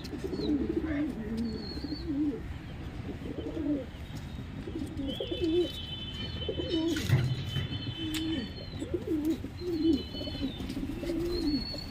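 Pigeons coo in soft, repeated rolling calls, several birds overlapping at close range, with faint chirps and a brief flutter in the background.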